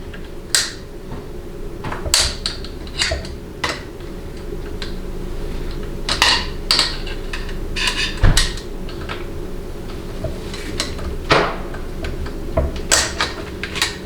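Pick and screwdriver prying and scraping on a Dodge 68RFE transmission during a teardown, a string of sharp metallic clicks and taps at irregular intervals over a low steady background hum.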